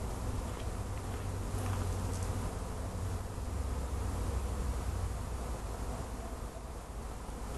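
A honeybee swarm buzzes around a hive box outdoors, a dense, unbroken drone of many wings, steady and fairly close throughout with no voices.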